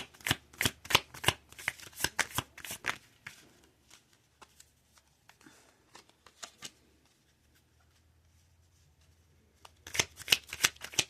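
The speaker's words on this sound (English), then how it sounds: "Give it one full shuffle" Rapid riffling bursts of cards being shuffled, loud and close, followed by a quiet stretch of soft handling, then another burst of shuffling at the end.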